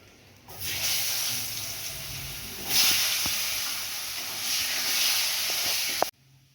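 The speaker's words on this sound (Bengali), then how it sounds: "এবার আমি আলুটা ভেজে নেব।" Potatoes frying in hot oil for a Bengali fish curry, a loud steady sizzle that starts abruptly, swells midway and stops suddenly near the end, with no talking.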